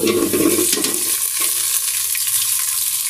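Thick-cut potato pieces hit hot oil in a pan, giving a loud, dense sizzle and hiss that swells at first and then settles into a steady frying crackle, with no voices.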